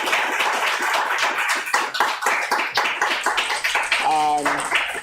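Audience applause for panelists at an Iranian poetry reading event, a ragged run of clapping mixed with voices talking over it, ending with a brief tonal sound.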